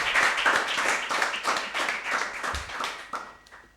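A short burst of applause from a modest crowd, clapping dense at first and thinning out as it fades.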